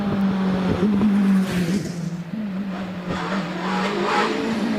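A GR59 race car climbs the hill at Prescott during British Championship practice, its engine holding a loud, steady high-pitched note, briefly dipping and revving again as it changes gear, close and clear with no talk.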